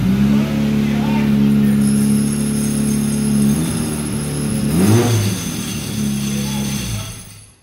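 A ZAZ car engine starting for the first time after a gearbox repair, idling loud and close with a steady low drone and a rising rev partway through, while people talk over it.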